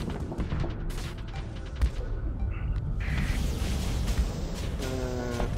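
In the Starsector space game, a Gladiator ship is destroyed amid a dense, continuous rumble of combat, with a sharp explosive thump and scattered blasts over steady low noise.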